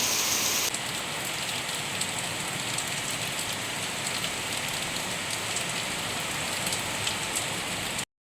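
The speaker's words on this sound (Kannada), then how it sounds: "ಮಳೆ ನಿಂಚಿತೇನ ಅನ್ಕೊಳ್ಬೇಕಾದ್ರೆ ಅದರ ಹಿಂದೆ ಇನ್ನೊಂದು ಶುರು ಆಗ್ತದೆ ನೋಡಿ" Heavy monsoon rain pours down steadily in Udupi, India, a dense, even hiss of drops hitting surfaces throughout, with no voices.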